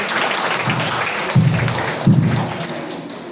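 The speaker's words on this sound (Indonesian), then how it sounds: "Sekali lagi kita berikan tepuk tangan buat saudara-saudara." Sustained applause from a congregation at an evening church service, a steady wash of many hands with a couple of heavier thumps rising midway, continuing at fairly even loudness throughout.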